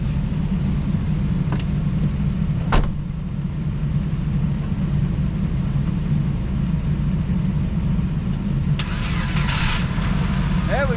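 Jeep engine being cranked with jumper cables connected to a Dodge: a steady low mechanical drone with a couple of brief clicks, and a burst of higher noise near the end.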